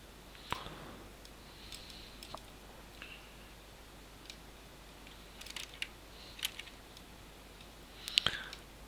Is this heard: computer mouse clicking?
yes